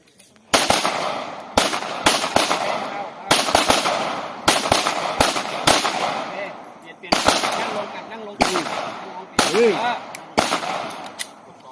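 Handgun shots at a shooting range, a string of sharp loud cracks in uneven bursts of two and three with short gaps, ringing slightly between shots, a voice calling out at points.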